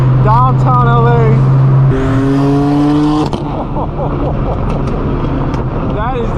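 A 1,000-horsepower BMW M4 roars past with rising and falling revs, close by over busy downtown Los Angeles street noise at night, with people talking nearby.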